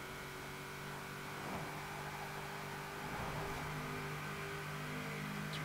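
Engine of a 1997 Mitsubishi GTO in Forza Horizon 4 droning at high revs near its rev limit at around 200 mph, a steady sustained whine and hum at moderate level with no talk.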